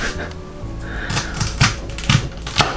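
A knife chops cabbage for vegan kimchi on a board in a handful of close, uneven thuds with light rustling of leaves between the cuts.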